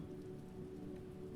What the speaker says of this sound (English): guided by the soft hush of an evening rain